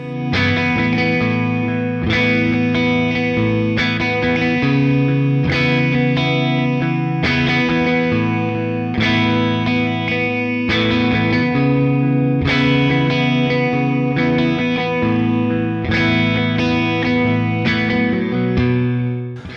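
An Epiphone 2024 Joe Bonamassa '55 Les Paul electric guitar with a mahogany body, played with heavy distortion and effects, strummed chords ringing out in repeated phrases, loud and full with no voices.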